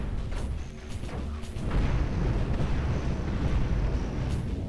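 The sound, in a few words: missile volley explosions hitting ship in video game Cosmoteer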